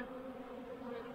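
Honeybees robbing a hive in a steady, dense buzz, many insects droning together close by with no pauses and no talking.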